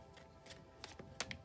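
A deck of tarot cards is shuffled in a quick series of soft riffling, flicking bursts, close and fairly quiet.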